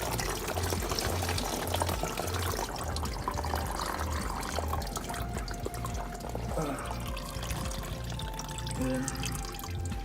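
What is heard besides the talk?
coolant draining from Nissan Titan radiator hose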